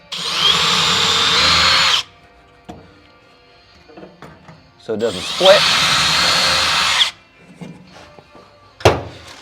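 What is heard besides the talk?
power drill pre-drilling wood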